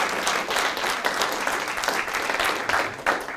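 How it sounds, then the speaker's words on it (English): An evening library talk audience claps for a guest, the applause moderately loud and continuous with individual hand claps standing out, tapering slightly near the end. "So can we give her a round of applause?"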